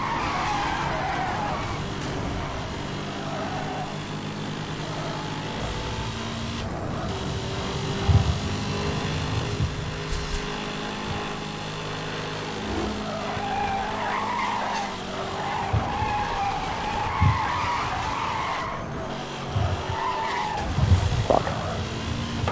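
Tires squeal and skid as a car drifts around a corner in the racing game Need for Speed Hot Pursuit Remastered, with a steady engine drone and tire noise running loud throughout, plus a few sharp impact bumps.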